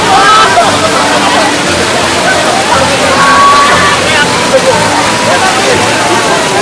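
Mayabi waterfall at Jaflong, swollen by rainwater in a heavy storm, roaring as a loud, constant torrent of rushing water close by, with voices faintly mixed into the din.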